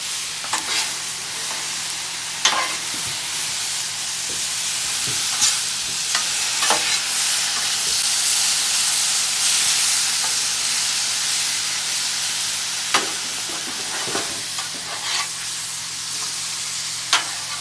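Beef fried rice sizzles steadily in a hot pan with sauce steaming off it, a constant bright hiss broken by sharp scrapes and clacks as a utensil stirs and tosses the rice every second or two.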